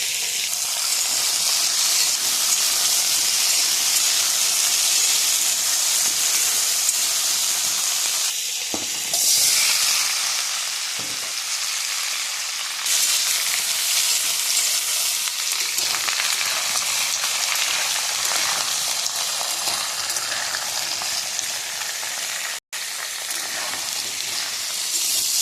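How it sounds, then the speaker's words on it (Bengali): Chili and bay leaves are tempering in hot oil with cumin in a kitchen wok, giving a loud, steady, close frying sizzle and hiss that runs without a break, with brief stirring scrapes. "লঙ্কা তেজপাতা ফোড়ন"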